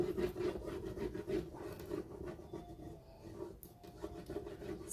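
A transfer decal pressed hard and rubbed onto a window, giving a steady close scraping and rubbing in quick repeated strokes, fairly quiet with no talk.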